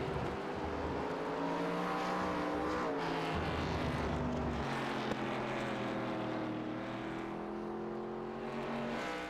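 Next Gen stock cars in a sim race at Watkins Glen, engines droning loudly and continuously as cars brake and accelerate through the bus stop chicane, several overlapping engine tones shifting pitch.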